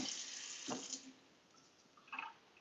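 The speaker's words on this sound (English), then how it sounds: "I wash my rice 3 times." Rice rinsed in a bowl under a running kitchen tap, steady hissing water with brief swishes and splashes, close and fairly faint with no talking.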